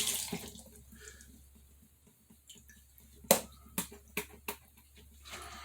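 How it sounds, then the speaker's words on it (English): Water added to watercolor paint while painting, heard as faint trickles followed by a few sharp drips and taps up close in a quiet room. "I'm going to put a little bit of water on it"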